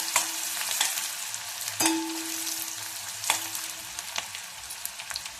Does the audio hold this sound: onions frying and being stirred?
yes